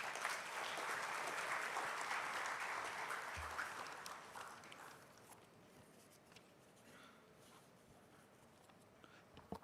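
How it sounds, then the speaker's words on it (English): Audience applause at an AI conference in Kerala, dense and steady clapping from a crowd that gradually thins and fades out over the second half. "Can we have a big round of applause?"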